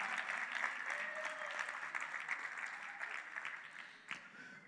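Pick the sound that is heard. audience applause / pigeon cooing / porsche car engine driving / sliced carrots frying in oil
audience applause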